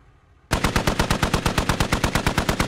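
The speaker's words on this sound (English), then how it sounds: "That's FFO Evinrude as the driver, swapping the gun, taking shots at that Humvee." Rapid machine-gun fire from a Humvee engagement in the military video game Squad starts abruptly after a short quiet moment. It continues as a loud, steady, evenly spaced burst of about twenty shots.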